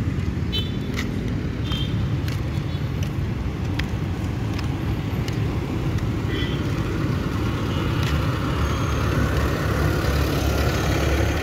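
A garbage truck idles during trash collection on a street, its steady low engine rumble continuous and fairly loud throughout, with faint higher clanks now and then.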